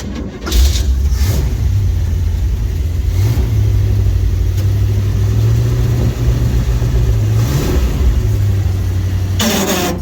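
A V8 Chevy G506 army truck engine runs steadily while driving, a loud continuous low rumble with small shifts in pitch as it pulls, close and alone with no talking.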